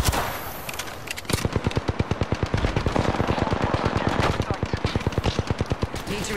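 Rapid automatic gunfire from Apex Legends, a long steady stream of close, loud shots in fast rhythm, with a brief pause near the start and continuing to the end.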